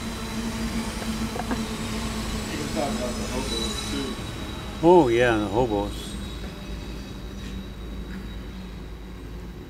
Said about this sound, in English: I heard this one coming. While that train goes by.